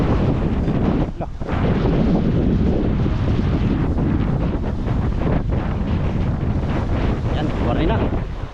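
Strong wind roars and buffets the microphone aboard a small boat battling big waves in rough weather on the West Philippine Sea, a loud continuous rush with thumps from the sea beneath.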